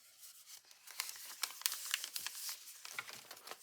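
Recycled paper for a handmade journal cover is creased and folded at the spine, giving close, quiet crinkling and rustling with a run of sharp papery crackles, no speech.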